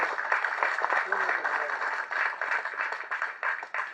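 Crowd applause fills a Tamil movie audio launch for Lara, a dense, steady spread of clapping from a large audience running throughout, with speech-like sound mixed in.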